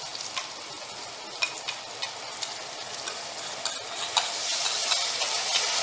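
Ingredients go into a hot pan of sautéed food, producing a loud, steady sizzle and frying crackle with repeated scraping taps of stirring close by. No one speaks over it.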